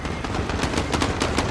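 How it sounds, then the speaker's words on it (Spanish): Dense, loud gunfire in Call of Duty: Modern Warfare, with rapid overlapping automatic bursts and shots packed together in a continuous barrage and no gaps. "¡Hay disparos!"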